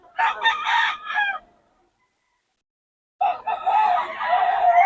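Two loud, close rooster crows from Boss Ray's fighting cock in Pangasinan, one near the start and a second, longer crow after about two seconds of silence.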